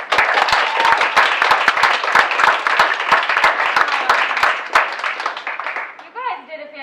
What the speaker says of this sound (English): Can we get one more round of applause for our core group?